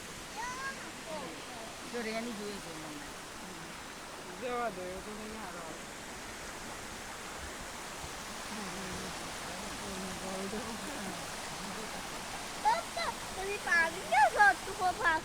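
A waterfall in the middle of a forest along the Great Ocean Road in Australia, heard from a railed viewpoint as a steady soft rushing hiss of falling water, with a few faint bird chirps near the end.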